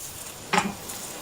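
Eggs cooking in a pan, folded from the outside in with a spatula scraping the pan, one short scrape over a low constant sizzle, close and brief with no voices.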